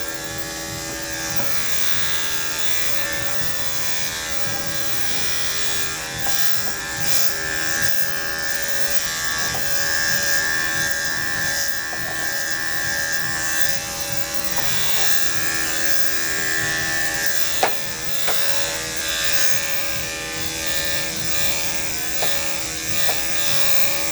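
Electric hair clippers fitted with a 3/4 inch guard trimming a Shih Tzu's coat, a constant close buzzing drone that runs unbroken throughout with small shifts in pitch as the blade moves through the fur.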